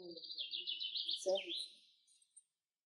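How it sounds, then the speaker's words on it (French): Birds chirp and trill in quick bursts at close range, with a short low voice sounding partway through before the calls fade out. "t'entends les sons des oiseaux."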